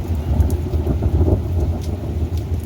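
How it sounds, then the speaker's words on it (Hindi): A thunderstorm in a hill village brings steady rain falling over a deep, continuous rumble of thunder, dense and loud throughout with no talk. "बिजली कड़क रही है, बादल पूरे काले काले हो गए हैं, बारिश हो रही है।"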